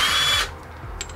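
A power drill bores out a traced circle during a bus conversion, whirring loudly for a brief burst and then stopping abruptly, leaving a quiet, faintly clicking room.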